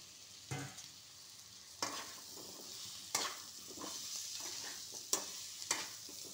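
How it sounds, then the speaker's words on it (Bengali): Onions frying with salt in a pan, a soft continuous sizzle broken by several sharp stirring scrapes at irregular intervals. "পেঁয়াজগুলোর সাথে একটু নুন দিয়ে ভালো করে আমি ভেজে নেব"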